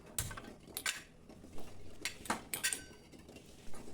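Ragi porridge sweetened with a lump of jaggery being stirred in a pot, with a spoon clinking and scraping against the metal in irregular, fairly quiet taps and strokes and no talking.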